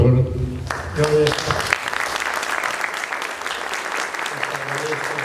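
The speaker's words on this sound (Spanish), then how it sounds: "hay que darle un aplauso al doctor" An audience at a lecture on the sixteenth-century residents of Colima breaks into steady applause. A voice speaks over the opening second, then the dense clapping continues alone before a voice returns near the end.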